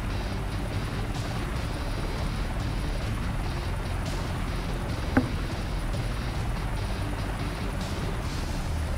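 Helicopter flyby in the video game GTA IV, a steady, dense rotor and engine roar with a constant rhythmic beat, fairly loud throughout with one brief sharp blip midway.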